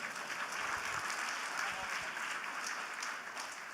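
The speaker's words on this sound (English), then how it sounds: "Let's give him a round of applause, please." Conference attendees at a Taiwan–U.S. investment event applaud a presenter, a steady, moderately distant round of clapping that holds evenly for several seconds.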